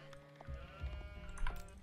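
Sheep in the real-time strategy game Age of Empires IV bleat in a few short, close calls that stand alone over faint game background sound.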